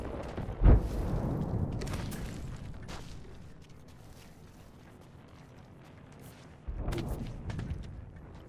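A sharp grenade detonation in Apex Legends slams in early and leaves a rumbling low tail, followed by quieter muffled bangs and another swell of booming noise later on.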